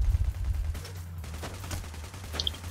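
Rapid bursts of gunfire from the Payday: The Heist video game crackle in quick volleys, loud and close, with no voices over them.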